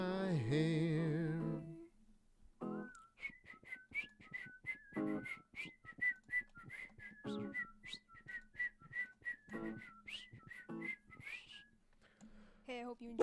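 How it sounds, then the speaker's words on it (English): A person whistles a melody in short, uneven phrases with a faint hum or voice at the start, near and moderately quiet, with breathy gaps between notes. "I'm so bad at whistling."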